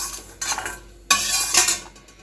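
Garlic dry-roasting in a pan for a Tamil curry leaf podi, with a spoon scraping and stirring in two bursts over a light sizzle. Close and fairly loud, no voices.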